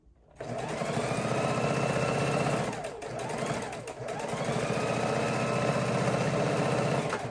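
Sewing machine stitching the seams of a bone-shaped ergonomic pillow: a close, loud, fast mechanical hum that starts abruptly, dips briefly twice as the stitching slows for a back stitch, then runs on steadily with no talking.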